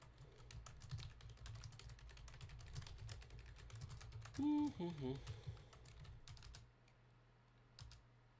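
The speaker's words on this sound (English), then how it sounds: "Does anyone else hear him tweeting? Well, it's typing anyway." Someone types on a computer keyboard, producing a continuous run of faint, quick key clicks over a low background hum, with a brief tonal chirp partway through.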